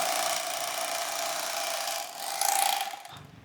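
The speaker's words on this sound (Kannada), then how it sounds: "ಅಕ್ಕಿ ಮುಟ್ಟೆ ಸ್ಟಿಚಿಂಗ್ ಹಿಂಗೆ ಮಾಡೋದು." A rice sack stitching machine sews shut a bag of red boiled rice with a steady, close, continuous mechanical whir and a brief louder burst near the end before it cuts off.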